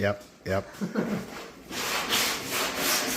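A wooden surface is block-sanded by hand. After a moment of talking, a steady, close, rasping scrub of sandpaper on wood continues evenly to the end.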